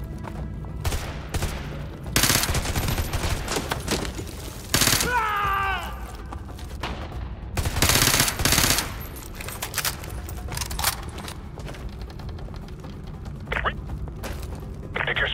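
Automatic and single gunshots crackle in bursts in a Call of Duty Modern Warfare 2 Remastered firefight, loud and close, with dense volleys at intervals and soldiers calling out between them.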